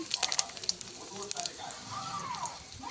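Lentil dumplings (bori) frying in oil on a wood stove, giving a soft, steady sizzle with small crackling pops near the start.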